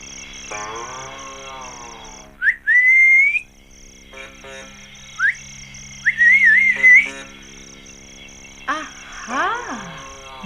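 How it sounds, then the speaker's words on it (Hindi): A man whistles in short bursts during a radio drama, each rising trill standing out over a steady background tone and faint speech. "और ये सीटी बजाना कहाँ से सीखा है?"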